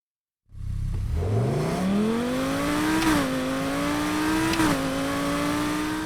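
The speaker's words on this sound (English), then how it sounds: "this definitely is a Huracan sound" An Audi R8 fitted with a 5.2-liter Lamborghini Huracan V10 revs up in Need for Speed Heat, its pitch climbing steadily into a loud, sustained high-rpm wail with two brief dips at gear shifts.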